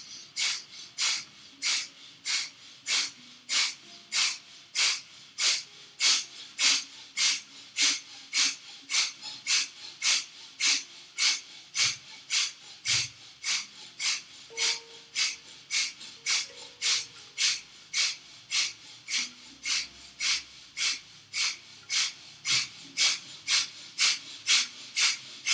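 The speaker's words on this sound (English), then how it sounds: "Rapid exhalation through nose, like a breath of fire." Breath of fire during a yoga class: rapid, forceful exhalations through the nose in a steady, fast rhythm, each one a sharp close puff, continuing for about half a minute with no talking.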